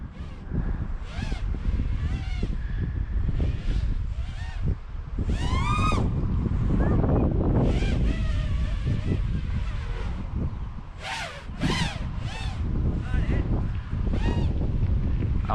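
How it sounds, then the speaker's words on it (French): Wind buffets the microphone outdoors in a steady rush, with intermittent whistling, honk-like tones and a small Wizard X220S racing drone flying overhead. "Alors il y a du vent."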